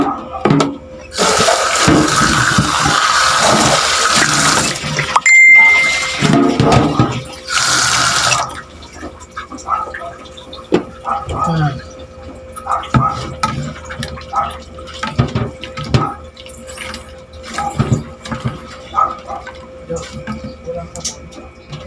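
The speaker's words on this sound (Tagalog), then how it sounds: "lagyan na natin ng tubig" Water gushes loudly from a tap into a cooking pot for several seconds, stops, runs briefly again, then gives way to quiet clinks and scattered speech.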